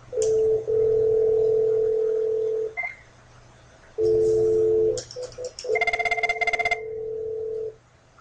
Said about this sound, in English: As you can see, the phone is ringing.